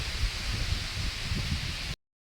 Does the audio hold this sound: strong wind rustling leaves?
yes